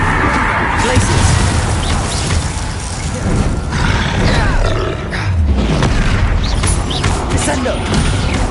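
Dense, loud video game combat in Hogwarts Legacy as a Descendo spell lands, with booming impacts, crashes and grunts layered over a continuous rumbling roar.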